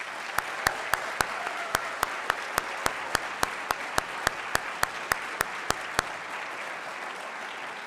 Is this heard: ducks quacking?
no